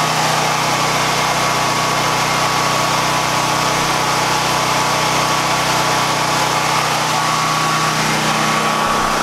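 A Predator portable generator runs steadily at close range, a constant engine drone with a faint tonal whine and no pauses, sounding fairly quiet and even.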